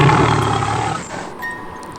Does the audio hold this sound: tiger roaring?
yes